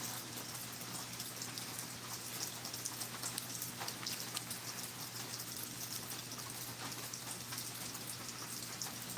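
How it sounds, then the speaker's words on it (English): Steady rain falling all day, a dense, even hiss of drops heard close and continuous for the whole stretch, with crisp individual drop ticks over a faint low hum. "Maddie, it's been steadily raining all day."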